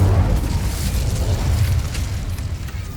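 Incendio fire spell blast in Hogwarts Legacy, a loud roaring whoosh of flame with a heavy low rumble that holds steady for a few seconds before easing slightly, close and without talk.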